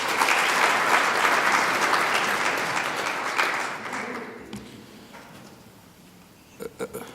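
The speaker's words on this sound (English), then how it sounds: "let's give her a warm round of applause" A large audience at a leadership summit gives a warm round of applause to welcome a speaker. The clapping is loud and full for several seconds, then tapers off into quieter room noise with a few scattered sounds at the end.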